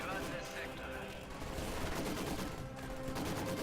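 Light machine gun fire from shock troops in a video game battle: dense, continuous bursts of rapid gunfire with other battlefield noise, steady and loud for the whole stretch.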